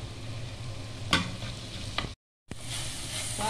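Onions and tomato sauté in a pan for an okra masala under a steady close sizzle, with a couple of sharp spoon knocks against the pan. A brief silent break comes partway through before the frying continues.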